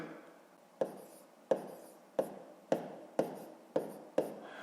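A pen writing numbers on paper during a fifth-grade maths exercise: a regular series of about seven sharp, close taps and strokes, roughly one every half second or so, with no voices.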